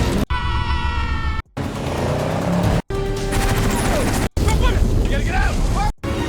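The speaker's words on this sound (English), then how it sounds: "Explosions, gunfire, and wrecked cars fill the highway as both sides battle for control of the fortune." Rapid bursts of gunfire and booming explosions on a highway with wrecked cars, in choppy, loud segments, with roaring engines and chaotic noise, cut by brief silent gaps.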